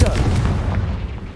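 A Confringo fire spell in the Hogwarts Legacy video game, a single loud booming blast that rolls off quickly, with a voice talking briefly over it.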